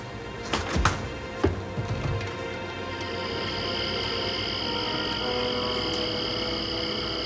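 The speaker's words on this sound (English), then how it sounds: "Can't you hear it? It's like crickets." A few dull knocks, then a steady high-pitched chirring drone like crickets sets in and continues without pause.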